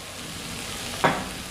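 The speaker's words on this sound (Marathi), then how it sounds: "आता परत एकदा हे सगळं मिक्स करून घ्यायचं आहे" A spoon stirs sautéed vegetables seasoned with salt and pav bhaji masala in a pan, one short scraping stir rising over a steady low sizzle.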